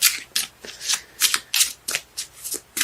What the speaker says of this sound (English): Cards let me know when they're done shuffling.